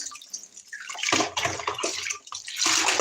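Water pours and splashes in a bathtub as baby dolls are washed, a steady close running-water wash with brief breaks, starting softly and swelling louder.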